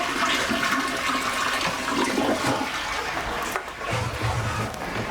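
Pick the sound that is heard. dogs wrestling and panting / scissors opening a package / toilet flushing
toilet flushing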